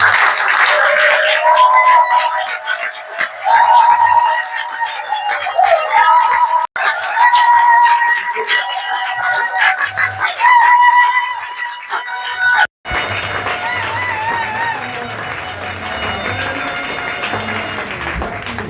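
A church congregation stands and cheers for the Lord, a sustained wash of applause mixed with shouts and high cries that continues loudly for many seconds before giving way to a quieter, rhythmic backdrop.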